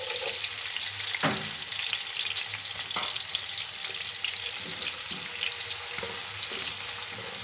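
Whole spices fry hard in oil in a pan: cumin, chili, star anise, black cardamom, cinnamon and cloves, with onions added for an arvi masala. A loud, steady hiss is broken by a few sharp clinks and stirs, with no talking.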